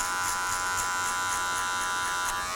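An electric hair clipper buzzes steadily and loudly up close during a drop fade haircut, a constant hum with faint pulsing and no talk.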